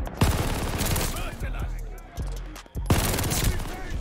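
An MG42 in Call of Duty Vanguard multiplayer fires two long, ripping bursts at a very fast rate, separated by a brief gap with scattered distant battle noise, and a player talks during it.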